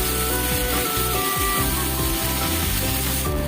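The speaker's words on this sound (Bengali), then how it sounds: "আলুগুলোকে ছেড়ে একটু কষিয়ে নেবো ভালো করে।" Potatoes frying in a spice paste for a fish-head rice dish, a continuous close sizzle with faint scraping of a spatula against the pan, steady throughout with no voices.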